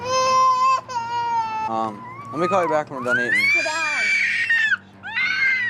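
A baby girl cries and screams loudly in a home at mealtime near a high chair, long wailing sobs rising and breaking, with someone talking over the crying.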